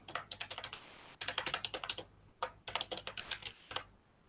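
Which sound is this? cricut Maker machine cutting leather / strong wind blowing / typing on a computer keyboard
typing on a computer keyboard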